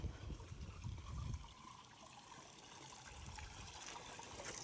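Water overflowing from a full tank on a village farm, a faint, continuous rushing trickle heard from a distance with a low rumbling undertone throughout.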